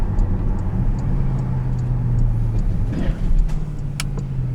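A Porsche Panamera Turbo S E-Hybrid exhaust idling with a low, rumbling burble, broken by a few sharp crackles and pops near the end.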